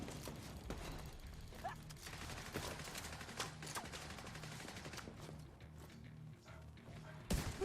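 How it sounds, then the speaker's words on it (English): Rapid automatic gunfire in The Division 2 aimed at an armored Hyena enemy: a dense, continuous string of close, sharp shots with mechanical clatter, fairly quiet overall and ending with a heavier burst. "Let me shoot him right"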